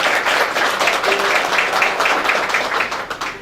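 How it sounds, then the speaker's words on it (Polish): A roomful of people at a community gathering in a restaurant applauds a host, a loud, steady wash of many hands clapping close by for several seconds. "brawa dla pana Bogdana"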